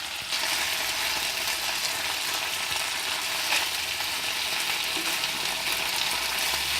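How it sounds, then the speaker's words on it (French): Stuffed tomatoes searing in a frying pan give a loud, steady sizzle and fry that runs unbroken throughout, close up, with no speech. "On va laisser saisir les tomates et après on les retournera."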